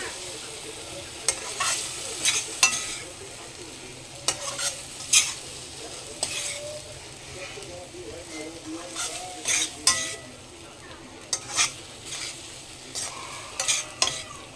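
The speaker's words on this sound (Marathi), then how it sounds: "आता याच्यात आपण टाकूया मॅरिनेट करून ठेवलेले पनीरचे पीसेस" Marinated paneer pieces go into a sizzling masala in a pan for a quick paneer curry and are stirred through. A soft frying hiss runs throughout, broken by repeated close scrapes and clinks of the spoon against the pan.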